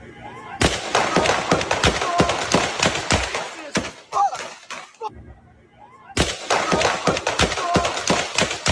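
Rapid overlapping gunshots crack loudly in dense bursts from a recorded real-world shooting, a pause of a second or two, then another long volley of sharp reports.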